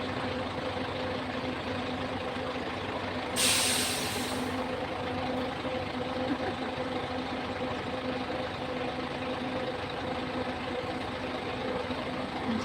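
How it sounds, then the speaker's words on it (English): Bus or truck engine idling nearby with a steady low rumble throughout, broken by one short hiss of an air brake release. "Just wait for the bus to move on."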